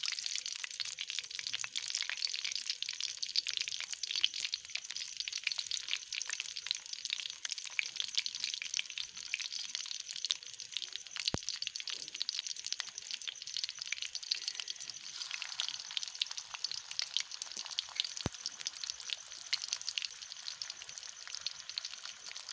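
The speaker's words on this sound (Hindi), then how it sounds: "अब इनको मैं फ्राई कर रही हूँ। ये ऑयल अच्छी तरह गर्म हो गया।" Beef shami kababs sizzle steadily in well-heated oil over a low flame, a continuous bright crackling hiss that holds even and unbroken throughout, close by, with no talking over it.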